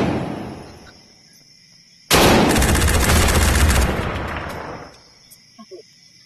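Loud, rapid burst of gunfire from a weapon in Tactical Assault VR, a sustained rattling volley lasting about two seconds that starts abruptly and then cuts off, followed by a few faint clicks.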